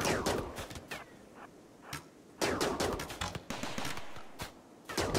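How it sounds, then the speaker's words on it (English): An automated turret in RimWorld fires bursts of rapid gunshots, clusters of crisp cracks separated by short pauses, steady and fairly close against a quiet game backdrop. "at least the turret's working now"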